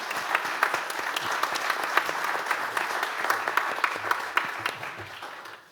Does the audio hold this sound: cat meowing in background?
no